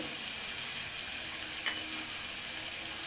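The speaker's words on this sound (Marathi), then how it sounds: "हिरवी मिरची टोमॅटो आणि मटार टाकून घेतलेला आहे ते चांगलं परतून घेऊया" Green chilli, tomato and peas sautéing in a pan give a steady, close sizzle with one brief clink partway through.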